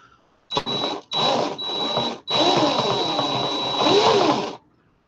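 A power drill whirs in several short bursts followed by one longer run, with a high whine and pitch shifts as it works, close up.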